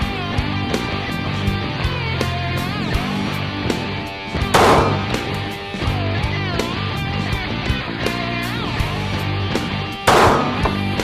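Gunfire at an indoor shooting range, two loud sharp shots standing out over a dense, loud, tonal background, no talking.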